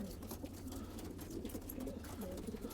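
Syrian fleet pigeons coo softly and steadily in low repeated murmurs over a constant background hum, with no talking.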